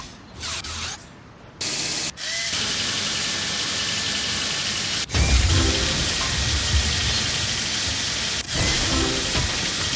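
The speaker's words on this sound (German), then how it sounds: "Bewege das hier, um den Bohrer zu platzieren. Dann drücke mehrmals." A drill in a PAW Patrol video game whirs loudly and mechanically once placed, a continuous grinding ratchet broken by brief cuts and restarts.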